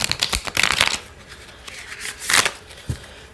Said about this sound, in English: that's the only way you can riffle shuffle it